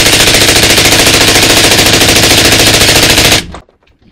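A rifle fires a long, rapid string of shots at a shooting range, loud and close, with evenly spaced reports running for over three seconds before stopping abruptly into quiet.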